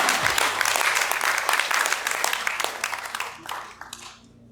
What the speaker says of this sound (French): Et on peut applaudir la régie pendant ce temps-là.